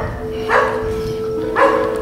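A dog barks twice at a distance outdoors, two short separated barks about a second apart over a steady background hum.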